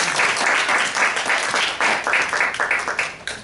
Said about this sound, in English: I think we should all give a round of applause for all of our participants in today's debate.